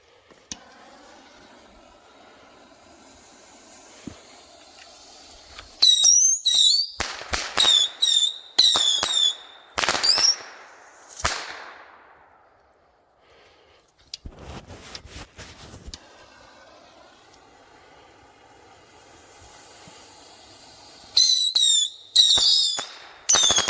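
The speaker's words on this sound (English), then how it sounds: "Having fun with bottle rockets." Bottle rockets launch from a launch pad with several rising shrill whistles, then a string of sharp cracking pops bursts close by. A quiet hissing lull follows before another cluster of whistling launches and bangs erupts.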